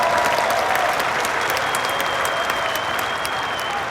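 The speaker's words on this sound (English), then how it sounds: "Let's clap it up for Gabriel" A keynote crowd applauds Gabriel at a conference event, dense clapping filling the room loudly and evenly, tapering only slightly toward the end, with no speech over it.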